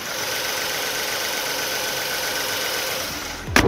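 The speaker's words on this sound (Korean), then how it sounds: "네 이제 앞으로 가서 엔진음 듣고 영상 마무리하도록 하겠습니다" A Hyundai Genesis DH all-wheel-drive sedan with a V6 GDI engine and about 180,000 km idles with the hood open, giving a steady, smooth, close-up mechanical hum that ends with a short thump.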